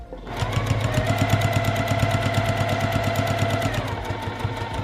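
Sewing machine stitching a fabric mat, running steadily at an even, rapid mechanical rhythm close by, with a sustained motor whine under the clatter of the needle and no talking.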